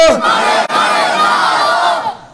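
A large gathering at an Islamic sermon shouts the takbir back in unison to a preacher's call. It is one loud, close, sustained roar lasting about two seconds, then fading.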